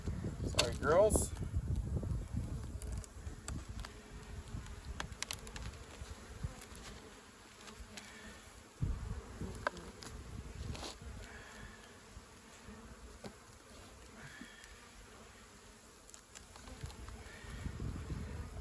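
Honeybees buzz steadily around an open hive during a spring inspection, a close, continuous drone with faint handling noises and occasional talk over it.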